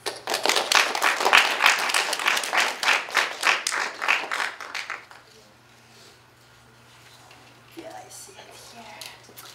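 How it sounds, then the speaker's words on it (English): A crowd applauds, clapping in rhythmic waves for about five seconds before fading into quiet room noise with faint movement. "Give a round of applause."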